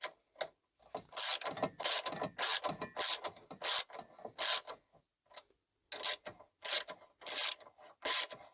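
Ratchet wrench tightening the brake caliper bolts on a Honda Forza 350 scooter during a brake pad change, heard as close, rhythmic bursts of rasping clicks in repeated strokes with short pauses between them, no talking.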